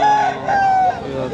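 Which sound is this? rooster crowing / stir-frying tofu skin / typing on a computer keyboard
rooster crowing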